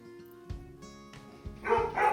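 A few dog barks, the last ones louder and closer, over a quiet background hum.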